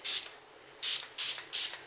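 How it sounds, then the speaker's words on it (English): Animology grooming spray pumped onto a dog's coat in four sharp hissing bursts, one and then three in quick succession, close up and alone. "And now we're going to spray with the Animology."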